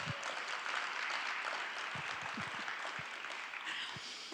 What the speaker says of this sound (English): let's clap. Let's just clap for Todd.